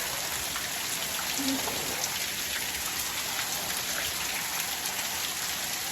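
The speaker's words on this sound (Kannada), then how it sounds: "ಮಳೆ ಅಂತೂ ತುಂಬ ಸ್ಟಾರ್ಟ್ ಆಗಿದೆ ನೋಡಿ ಎಷ್ಟು ಬೀಳ್ತಾ ಇದೆ ಮಳೆ" Heavy rain pours down steadily, a dense unbroken hiss of drops drumming on surfaces throughout.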